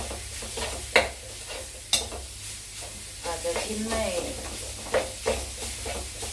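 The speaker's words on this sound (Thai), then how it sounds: "เริ่มหอมปั๊บใส่เลยค่ะ ใส่หมูเราลงไปเลย อันนี้คือหมู หมูแดดเดียวค่ะ" Pieces of sun-dried pork stir-frying and sizzling in a hot pan for a Thai herb larb, with a steady hiss, scraping stirs and a few sharp utensil clacks while someone talks.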